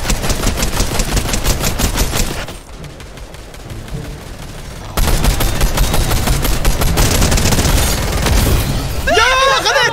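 Rapid automatic gunfire rattles in a Dragon Ball themed shooter game, loud bursts of fire with a quieter gap, while players talk over the action.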